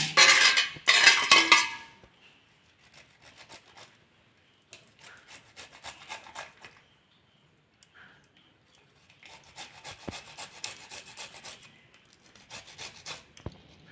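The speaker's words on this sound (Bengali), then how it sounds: "পাকা কাঁঠালটা আমি ঘষে নেব।" Ripe jackfruit pulp is grated by hand for fritters. Rough rasping strokes come in short bursts, loud at first and then softer and patchy, with pauses and a couple of faint knocks from a utensil.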